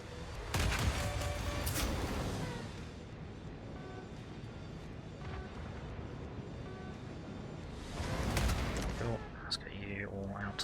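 Missiles launching in the strategy video game Dust Raiders, a dense, sustained barrage of booming, crackling blasts with a louder swell near the start and another near the end, with a voice talking throughout.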